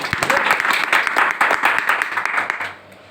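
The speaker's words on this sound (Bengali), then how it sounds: "তাদের জন্য জোরে করতালি হতে পারে" An audience claps loudly in a dense, steady burst of applause that fades out near the end, heard close and with no talk over it.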